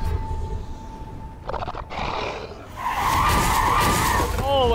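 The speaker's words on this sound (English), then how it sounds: "they're crashing into each other" Cars ram into each other in GTA 5, with screeching tire skids and engine roar building into a loud, sustained screech near the end, while a voice talks over part of it.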